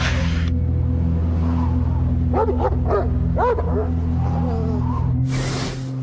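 A dog barks a few times at middle distance in a short burst of yelps over a steady low engine-like hum, at the front door of an old fortress.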